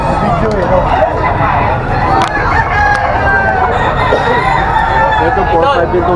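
A Henny gamefowl rooster crows loudly and repeatedly up close, with clucking from other fowl amid a busy market babble of voices and people talking.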